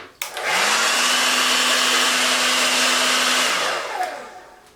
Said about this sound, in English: Just going to go ahead and blow dry him for a couple minutes.